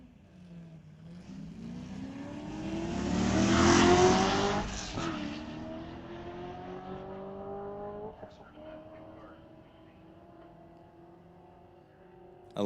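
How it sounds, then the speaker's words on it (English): A Z28 Camaro and a 2006 Corvette launch in a drag race at a raceway strip, engines revving up and swelling to a loud roaring peak as they pass, then fading into the distance with rising gear-change pitches. "Z28 Camaro taking on a Corvette from '06."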